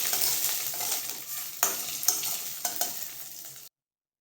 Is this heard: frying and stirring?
yes